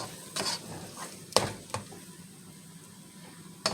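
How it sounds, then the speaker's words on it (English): Eggs frying with rice in a pan for fried rice, a soft steady sizzle broken by several sharp scraping stirs and clinks of a utensil against the pan. "we're getting this rice fried up. Okay, so as you can see, those eggs are frying up nicely."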